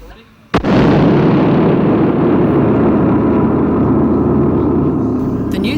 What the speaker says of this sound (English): The member for Charlestown, Richard Face, detonated the first explosion in the shaft where a new outlet tunnel is to be built.